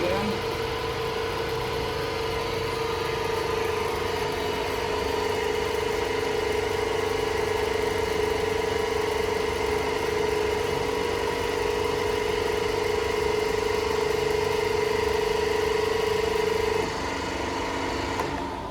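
The motor of a Steelmaster SM-HEPM160 160-ton hydraulic workshop press hums steadily with a constant mid-pitched drone and mechanical whir for most of the stretch, then cuts out near the end.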